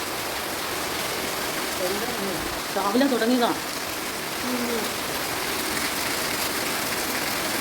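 Heavy rain pours steadily in a dense, even hiss at a moderate distance, and a person speaks briefly over it.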